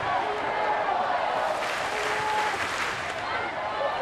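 A baseball stadium crowd cheers and applauds for the Kansas City Royals at a home game, a broad, sustained roar that swells slightly, with a commentator talking over it.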